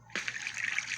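Water trickles steadily at a playground, a close, continuous splashing dribble that starts abruptly and keeps running without pause.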